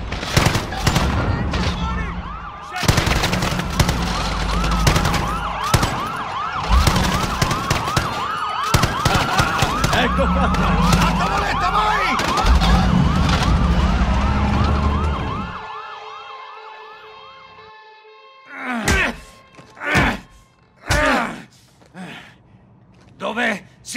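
Police sirens wail loudly through the Call of Duty Modern Warfare prison-escape mission, mixed with gunfire and voices, then fade and give way to a few sharp shots.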